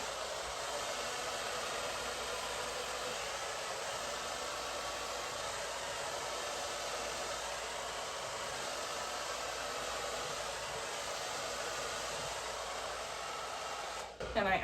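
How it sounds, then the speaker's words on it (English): A Babyliss Pro hair dryer running on hot at close range, a constant loud airy whoosh that holds unchanged for the whole stretch before cutting off at the end. "My hair dryer is a Babyliss Pro."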